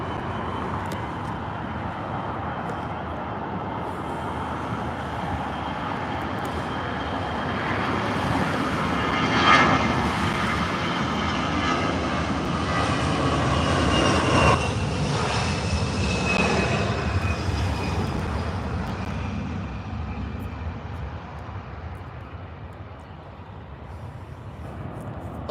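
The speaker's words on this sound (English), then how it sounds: "Kansas City on an A320 up next. Up next for departure on 24 right." An Airbus A320 jet departs for Kansas City from runway 24 right, its steady distant engine roar swelling slightly midway and then easing off, with no talk over it.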